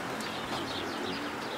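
Racing pigeons coo softly in a loft, low faint murmuring calls running throughout.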